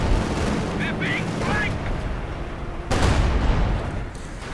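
Machine gun and tank main gun fire in a Company of Heroes 2 multiplayer battle, bursts of gunfire and a sharp heavy blast amid battle noise, with a commentator talking over it.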